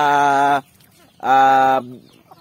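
Native chickens fed on pellets give two loud, drawn-out clucking calls close by, separated by a brief silence.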